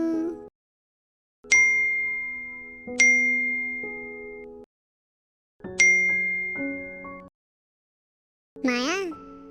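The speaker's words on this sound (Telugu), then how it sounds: "నీ పిల్ల ఫోన్కి మెసేజ్లు వస్తున్నాయి" A phone gives a series of bright notification dings, four separate chimes spaced a second or two apart followed by a warbling tone, clear against silence.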